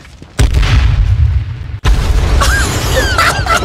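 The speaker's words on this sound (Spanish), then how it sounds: "Les has tirado toda la granada, ¿verdad?" Two heavy, close booms of grenade explosions in the H1Z1 video game, each followed by a loud rumbling roar, the second with chirping game effects after it.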